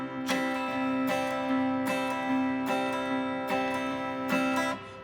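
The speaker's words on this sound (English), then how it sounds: "can you play a clear bass note and then do a down up strum?" An acoustic guitar repeats a clear low bass note followed by a quick down-up strum, in a steady bouncing rhythm, close and alone.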